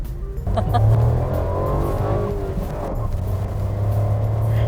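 A 2020 Suzuki S-Presso 1.0L manual car engine rumbles steadily with a brief high tire squeak early on, the tone rising and falling as the vehicle moves.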